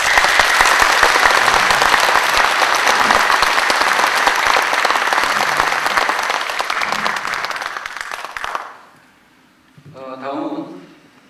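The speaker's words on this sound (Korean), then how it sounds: "여러분 두 후보에게 새 후보에게 응원의 박수 부탁드립니다" A hall audience at a 2016 Gimpo National Assembly candidates' debate applauds the candidates in a loud, steady round. The clapping lasts about eight seconds, then stops abruptly, and a brief voice follows.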